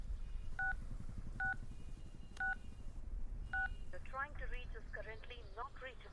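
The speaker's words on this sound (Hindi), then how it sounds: "अनिल को फोन कर" Four evenly spaced DTMF keypad beeps sound as a number is dialed in a Hindi-dubbed Telugu film scene, then give way to warbling, chirpy tones, all over a steady low background rumble.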